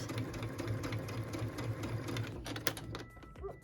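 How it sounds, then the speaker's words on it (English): A sewing machine stitches a pieced, quilted stocking, running at a steady rhythmic whir close by before slowing and stopping, followed by a few light handling clicks. "I'm going to stitch along, do my back stitch, and I'm done"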